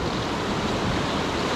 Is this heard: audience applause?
no